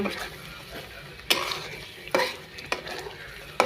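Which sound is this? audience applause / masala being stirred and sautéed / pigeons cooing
masala being stirred and sautéed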